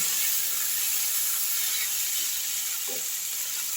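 Taro pieces frying in hot oil with tempering spices in a kadai, giving a steady, bright sizzle and hiss that holds evenly throughout, with a faint clink near the end.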